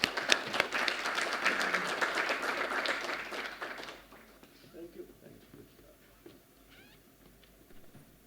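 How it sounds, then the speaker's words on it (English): An audience at a drone conference hall applauds with a full, steady burst of clapping for several seconds, then it dies away into a quiet, murmuring room. "A big round of applause for him."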